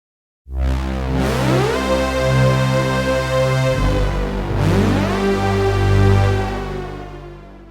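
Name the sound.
film score super saw synth patch with dark lush reverb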